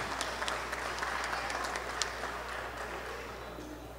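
Applause from the crowd at a boxing event rewards the boxers after the match: steady mid-distance clapping with a few sharper individual claps standing out, lasting the whole moment.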